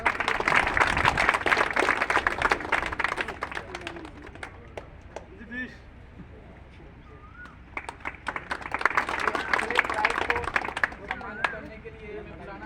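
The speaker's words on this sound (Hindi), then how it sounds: "जोरदार तालियां" Loud clapping rises from the crowd at an award ceremony as a steel yard worker comes up for his prize. It fades midway under voices and scattered claps, then surges again before tapering off.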